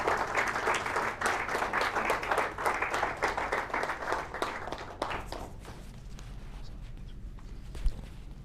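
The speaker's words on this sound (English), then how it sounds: "a big round of applause for Sarosh Wadia" Audience applause for Sarosh Wadia, the president, at a 50th anniversary celebration, dense clapping that fills the first five seconds, then thins to scattered claps and fades, with a soft thump near the end.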